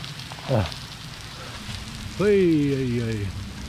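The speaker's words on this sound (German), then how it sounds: "Es regnet, es regnet," Rain patters steadily on a surface outdoors along a cycling pilgrimage route in France, a soft continuous hiss under which a person speaks briefly.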